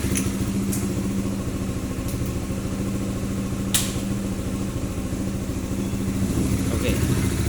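A motorcycle with a faulty ECM idles high at around 1600 to 1700 rpm with its regulator rectifier unplugged, giving a steady, close engine drone that holds even throughout with no revving.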